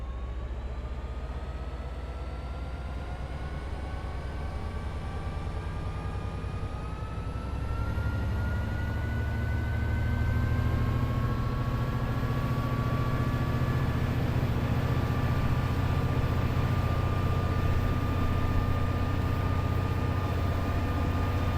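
An F59PHR diesel locomotive in Train Sim World 5 accelerates out of a station, its steady low engine rumble swelling louder partway through as rising whining tones climb above it, heard from outside with no talk.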